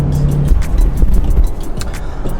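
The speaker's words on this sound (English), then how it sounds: "I'm going to pass this truck" A 2020 Toyota 4Runner drives past a truck on the road, with steady low road and engine rumble and broadband tire noise throughout, plus a brief low hum near the start and faint passing whooshes.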